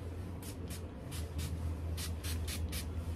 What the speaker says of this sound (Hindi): I am going to use the hair spray